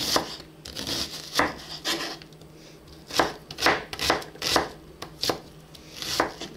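A knife slices an onion into half-rings on a board while a beef bourguignon is being made, with about a dozen crisp, uneven chopping strokes up close.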